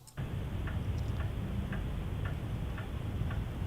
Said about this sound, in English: Hear a ticking clock or something.